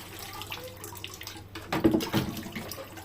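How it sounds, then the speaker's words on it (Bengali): Dried loitta fish is rinsed in water, a quiet splashing and swishing that swells in the second half, close by with no voice. "শুটকিগুলো একটু পানি দিয়ে ধুয়ে নেব।"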